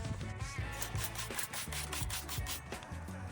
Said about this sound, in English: Again, we're back to sanding horizontally.